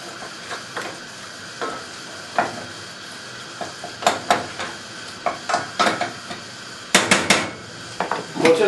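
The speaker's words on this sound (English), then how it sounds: "And stir it all around." A spoon scrapes and clinks against a pot while rice is stirred with butter, giving irregular knocks and scrapes over a soft sizzle, close up with no talking.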